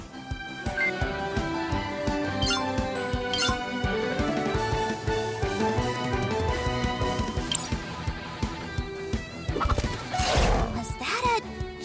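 Chickens cluck in the video game Cris Tales, short fowl calls scattered through busy game music and battle effects, with a sharper burst near the end.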